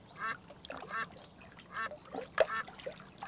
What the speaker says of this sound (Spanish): También oigo graznidos de pato y agua.